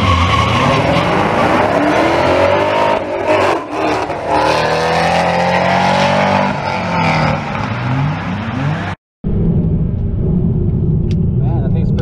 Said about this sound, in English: run number 3 against the Camaro ZL1. 650 horsepower